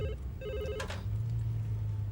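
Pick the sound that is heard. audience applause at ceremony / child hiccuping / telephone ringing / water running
telephone ringing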